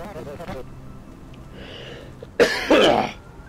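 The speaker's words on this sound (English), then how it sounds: "excuse my gross cough noises" A short voiced sound, then after a pause two harsh, loud coughs close to the listener, followed by quiet.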